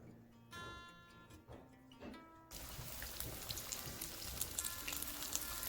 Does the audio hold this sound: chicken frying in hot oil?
yes